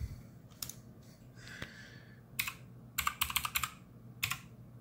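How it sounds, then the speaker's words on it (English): Someone types on a computer keyboard in a quiet room, with soft separate key clicks followed by a quick cluster of keystrokes and one last short burst. "What am I typing?"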